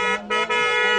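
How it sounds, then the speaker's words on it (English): Car horn honking in a crowded Old Delhi bazaar, a sustained blaring tone broken by two short dips, loud and close amid the market din. "Not sure why they got the horn honking over here"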